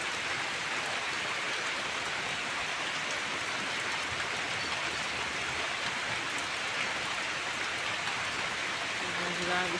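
Rain keeps falling in a constant, dense hiss of drops on surfaces, unbroken and fairly soft, with no voices.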